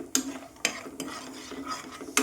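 Dry fruits and raisins frying in a pan for bread halwa, with a quiet steady sizzle broken by several sharp spatula scrapes and clacks against the pan.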